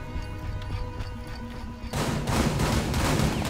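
Gunfire in Rainbow Six Siege on the Oregon map during a hostage team deathmatch, a dense burst of shots starting abruptly partway through over a low game ambience, loud and close.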